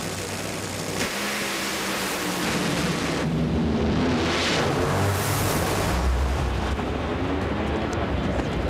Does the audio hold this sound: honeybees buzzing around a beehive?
no